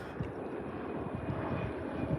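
A jet aircraft flies overhead beside a creek, a faint, steady distant roar that holds for the whole stretch with no clear rise or fall.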